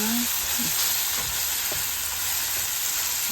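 Bitter gourd (ampalaya) sautéing in a pan, a continuous close sizzle with a few faint stirring scrapes and clinks, no talking.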